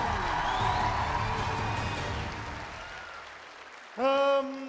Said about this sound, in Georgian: გავაძლიეროთ აპლოდისმენტები ნანუკა ჟორჟოლიანი